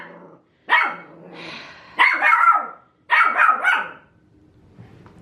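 Australian Cattle Dogs bark in three loud, sharp bursts near the microphone as a vacuum cleaner runs, with growly yips in between and a quieter pause before a faint sound at the end.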